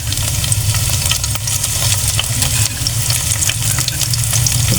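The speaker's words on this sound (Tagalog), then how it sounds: "Igisa na po natin yung ating ricado." Garlic and onion sautéing in hot oil for chicken feet caldereta, a loud steady sizzle and crackle with an occasional stir of the pan, no talking.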